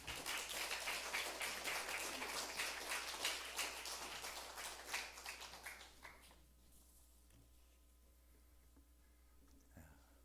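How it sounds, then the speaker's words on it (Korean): A church congregation at a Sunday morning service claps in welcome for a missionary from Chiang Mai, Thailand: steady dense applause for about six seconds, then fading to scattered claps and a quiet room. "우리 환영의 박수, 우리 은혜의 박수 한번 부탁드리겠습니다"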